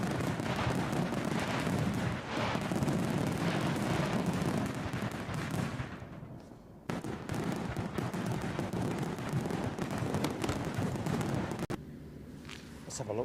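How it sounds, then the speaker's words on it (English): Fireworks sound effect set off during an airport planespotting livestream, a long run of dense booming and crackling bursts with a brief dip midway and sharp cracks near the end. "These fireworks for you, Graham."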